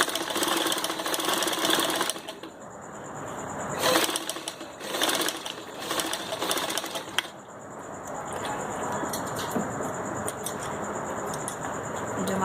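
A sewing machine stitching fabric for a turban runs in steady rapid bursts, stopping and restarting a few times before a longer continuous run, close and clear with faint speech.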